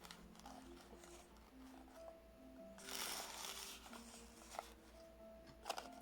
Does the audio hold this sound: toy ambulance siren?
no